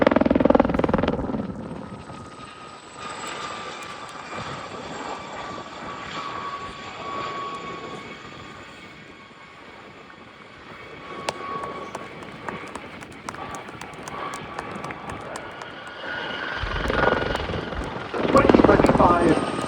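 Gazelle helicopters of the Gazelle Squadron display team at the 2025 Abingdon Air & Country Show, Dalton Barracks: a continuous rotor and turbine drone that dips, then surges louder toward the end, with voices in the background.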